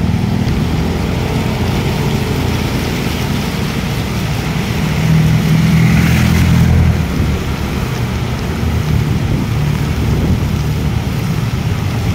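Heavy all-night rain during a monsoon storm in Malolos, Bulacan, a loud, constant roar of downpour with low rumbling underneath, continuing without pause and without any voices.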